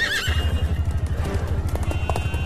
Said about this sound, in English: You think the horse will be safe, Ben?